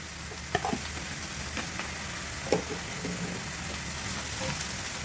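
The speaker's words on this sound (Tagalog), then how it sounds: "igisa-gisa natin yan" Carrots and green beans for pancit canton sizzle steadily in a pan, a low continuous frying hiss broken by a couple of faint clinks of stirring.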